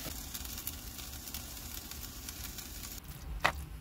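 Food sizzles steadily in a single pan on a van stove, a soft continuous frying hiss under a low engine-like rumble, ending with a brief sharp clink.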